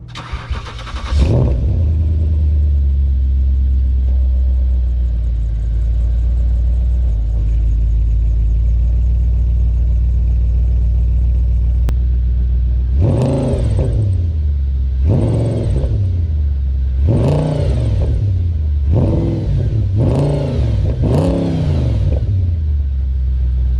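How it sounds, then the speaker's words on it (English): A supercharged V8 in an Audi RS4 cranks and fires into a deep, steady idle, then revs sharply five or six times in quick bursts. "find out what this supercharged V8 sounds like"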